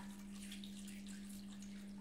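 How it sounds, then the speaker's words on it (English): Boiling water from a kettle poured over sliced potatoes in a baking dish, a soft continuous splashing stream, close but quiet over a steady low hum, no talk. "you get boiling water, like from the kettle, and you pour it on top of the potatoes"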